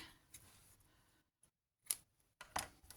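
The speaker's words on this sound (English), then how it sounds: "I'm actually going to stop there, cut the fabric" Scissors cutting through a scrap fabric strip for boho wire hoop earrings: a short rustling cut, a pause, then two crisp separate snips close up, with no talking.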